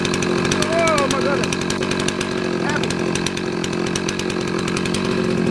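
A chainsaw runs steadily and loudly throughout, cutting ash firewood, with someone talking over the engine noise.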